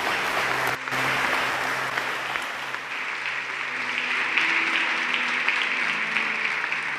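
A church congregation claps in sustained, dense applause throughout, loud and continuous, with a low hum underneath and no voices standing out.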